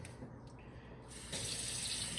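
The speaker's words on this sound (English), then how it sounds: "You're gonna get yourself some hot water." Hot water runs from a kitchen tap while tea is being made, a steady rushing stream that swells louder partway through, close and alone with no talking.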